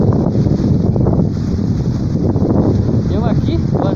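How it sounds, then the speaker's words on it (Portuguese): Strong wind buffets the microphone beside a river, a loud, continuous rumbling roar, while people talk faintly under it. "Pensa num vento."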